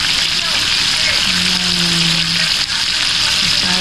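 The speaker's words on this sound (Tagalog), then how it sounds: "Mag-prito tayo ng isda." Fish fries in hot oil with a loud, dense, continuous sizzle close up, a steady crackling wash throughout without letup.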